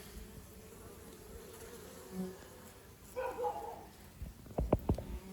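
Honey bees buzz steadily at a winter mini nuc hive, joined by a few sharper knocks and brief louder bursts toward the end.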